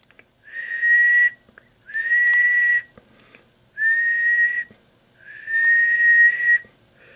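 A person whistles into a radio transmitter microphone during an MFJ wattmeter test, four long, steady sustained tones, each about a second long with short pauses between, loud and close with no talking.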